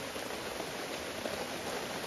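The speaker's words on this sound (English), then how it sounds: "we no more than hit the time lapse button and it started pouring" Heavy rain pours steadily at a lake campsite in the Adirondacks, a dense, even hiss close by with no break across the whole stretch.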